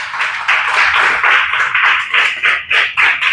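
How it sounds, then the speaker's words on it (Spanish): Church congregation clapping together for several seconds, a dense steady patter of many hands, loud and close, with the claps growing more rhythmic and pulsed toward the end. "Dale un aplauso al Señor"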